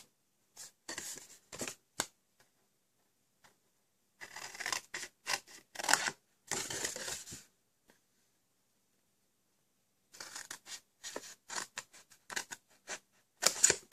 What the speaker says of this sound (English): I'm going to cut up our score lines this time.